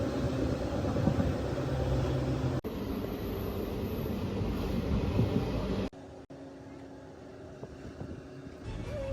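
A train rolls steadily through mountain country with continuous rumbling and rattling. The loud noise breaks off in a couple of abrupt cuts, and no voices are heard.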